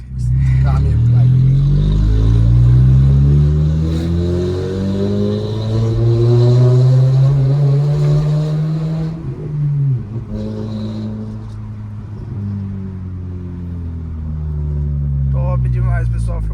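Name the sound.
Toyota Corolla 2010 with stainless steel muffler, loud exhaust accelerating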